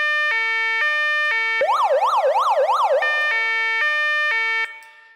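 European two-stage siren effect from the SFX Pro 9000 plugin, alternating between two steady pitches, briefly switching to a quick warbling sweep, then returning to the two-tone pattern before fading; loud and alone.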